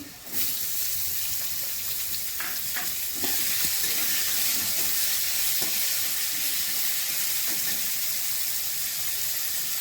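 Constant loud sizzling of onions added to frying potatoes in hot oil, with a few scraping stirs early on and a steady hiss throughout.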